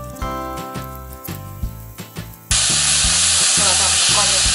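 Leftover pig's feet frying in sauce: music plays for the first couple of seconds, then a loud, constant sizzle and hiss of hot oil takes over and continues steadily to the end, close up.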